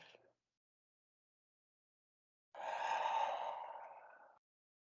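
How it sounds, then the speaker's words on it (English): A long, steady breath out through the mouth during a yoga flow in downward dog, airy and close, following a brief earlier exhale and then trailing into silence. "Breathing in through the nose, out through the mouth."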